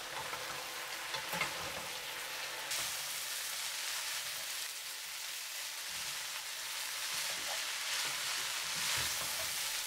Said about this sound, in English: Add the noodles, turn to high heat and stir occasionally for 3 minutes.